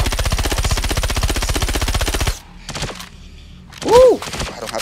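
SMG fire in the first-person shooter Star Citizen: a loud, fast rattling burst for about two seconds, then quieter scattered shots and effects with a brief voice-like sound near the end.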